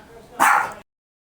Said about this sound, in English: that's my dog over there. She's not happy.